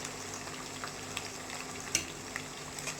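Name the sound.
onions sautéing in a pan for fish curry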